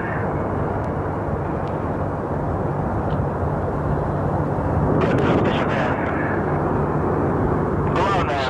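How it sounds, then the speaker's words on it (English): Soyuz rocket engines power up at the Progress MS-29 resupply launch, a steady broadband roar that swells slightly partway through, heard loud and continuous from start to end. "Soyuz running up to full power"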